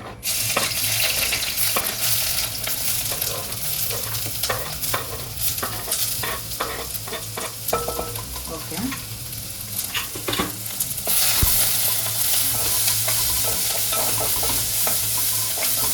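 Garlic, green chilli and ginger sizzle steadily in a pan with a continuous crackling fry, broken by frequent stirring scrapes and clinks of a spoon, close and loud throughout, no voices.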